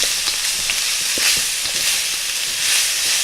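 Pork and noodles frying in a stir-fry pan, giving a loud continuous bright sizzle with scattered pops and crackles throughout, close and unbroken by talk.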